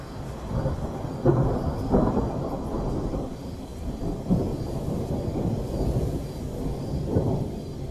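An intense thunderstorm in lion country, with continuous deep rolling thunder and steady rain rumbling under it, several heavier rumbles swelling and fading throughout.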